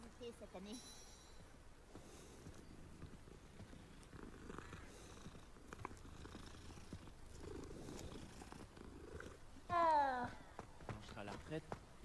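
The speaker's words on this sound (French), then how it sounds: "Encore un chat, tiens." A cat purrs in the Hogwarts Legacy video game, a soft low rumble under quiet game ambience with footsteps and occasional speech, and a louder chirpy burst near the ten-second mark.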